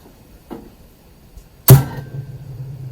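Gas assist igniting on a Weber Summit charcoal grill: a soft click, then a sharp loud whoosh as the burner lights, settling into a steady low roar of flame.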